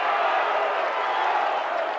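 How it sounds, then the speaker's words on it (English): Rugby league crowd at an Oldham versus Halifax match roaring and cheering steadily throughout, a dense, continuous wall of noise from the stands with no break. "That's got the crowd going."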